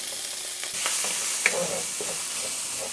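Onion cooks in a pan for a Cuban-style lasagna, a steady moderate sizzle with occasional light clinks and scrapes of stirring.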